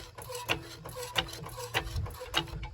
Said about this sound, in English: I'm gonna jack it up, and I'm just gonna jack it up right on the control arm